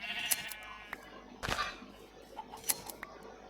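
Sheep bleat a few times in Minecraft, short nasal cries heard clearly alone with small clicks around them.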